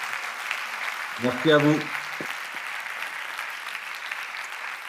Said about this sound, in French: On va pouvoir vous applaudir et vous remercier vivement pour cette présentation.